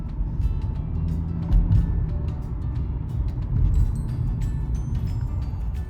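Continuous road traffic rumbles by, a steady low drone of cars passing with occasional swells as vehicles go past; no voices.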